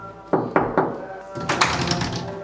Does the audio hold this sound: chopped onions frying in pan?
no